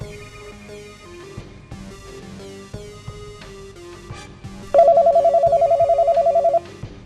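A phone ringtone starts partway through and rings steadily for about two seconds with a fast, pulsing electronic trill, over quiet background music in a TV drama.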